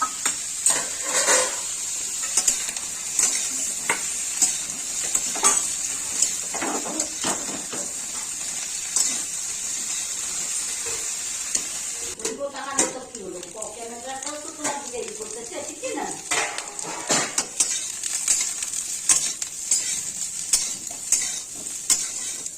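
Cauliflower florets fry in a pan for a spicy cauliflower and soybean dish, with a steady hiss of oil broken by repeated scraping and clinking of a spatula stirring against the metal, close and continuous.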